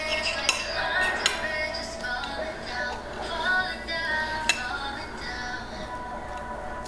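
A fork and knife clink and scrape against a plate while cutting red velvet pancakes, with several sharp metallic taps among softer scraping strokes, close and clear.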